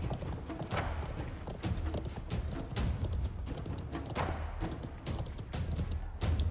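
A horse gallops in the battle game Conqueror's Blade, with a steady stream of rapid hoofbeats over a busy battlefield background, loud and continuous without audible talk.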